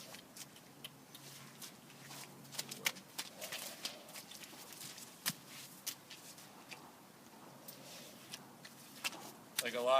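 An event horse walks in training, its hooves clip-clopping in a loose, uneven rhythm that is quiet and somewhat distant. The clicks sound over a soft outdoor background, with faint voices at times.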